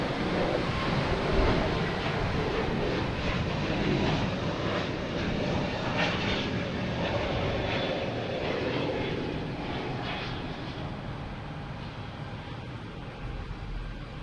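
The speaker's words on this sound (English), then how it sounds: "We have United Airlines heading to Newark," A United Airlines Airbus A321neo jet departs Boston Logan Airport for Newark, a loud, sustained engine roar that slowly fades over the final seconds as it moves away.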